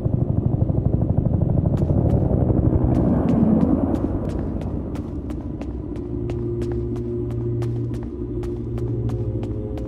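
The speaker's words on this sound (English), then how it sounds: "Is that the evac chopper?" Rhythmic thumping of a video game evacuation helicopter's rotor over a deep rumble, the steady chop continuing for several seconds with a low engine hum underneath.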